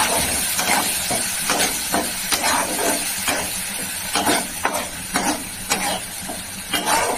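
Ingredients for a rohu fish curry with ridge gourd and potato fry in a pan under steady loud sizzling, while a utensil stirs in repeated scraping strokes, close by, with no speech.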